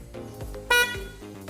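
The horn on an upgraded electric scooter gives a single short, bright beep that stands out briefly over a steady background hum.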